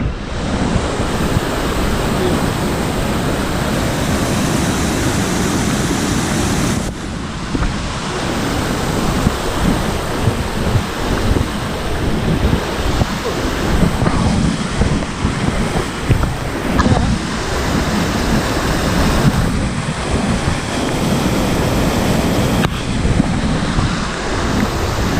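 A large volume of water is released from a waterworks into a canal near Khanpur, a loud, steady roar of rushing water with wind buffeting the microphone, continuous and close throughout.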